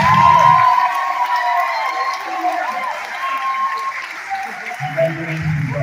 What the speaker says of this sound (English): you give them another round of applause, that's for sure